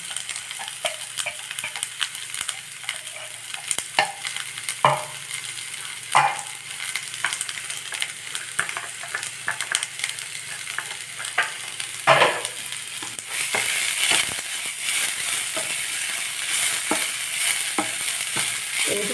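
Finely chopped onions, two large ones, sauté in a pan with a lightly salted batter dish, giving a steady broad sizzle with intermittent stirring scrapes and clicks throughout, growing a bit louder near the end.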